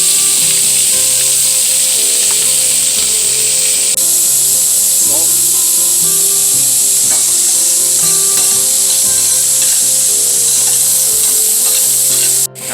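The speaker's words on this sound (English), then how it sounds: "So in my pan I've got about 3 tablespoons of grapeseed oil, and I'm going to add my onions to that." Onions fry in about three tablespoons of grapeseed oil in a pan, a loud continuous bright sizzle with occasional stirring scrapes, close and steady throughout, no talk.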